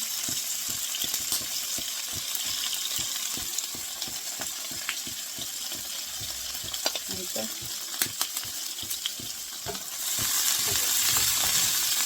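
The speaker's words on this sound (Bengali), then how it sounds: "এখানে কিছু পেঁয়াজ আর মরিচ দিয়ে দেবো একদম ফ্রাই করে নিব" Onions and chillies fry in a pan alongside hilsa fish, giving a steady, close sizzle broken by repeated stirring clicks and scrapes that grows a little louder near the end.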